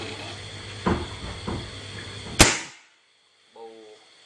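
An air gun fitted with a homemade silencer made from a NaPa 4003 single-core alloy fuel filter fires one sharp, close pop, preceded by a couple of softer knocks over a steady background hum and followed by a brief voice.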